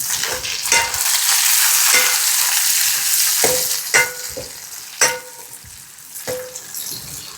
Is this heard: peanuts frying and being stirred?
yes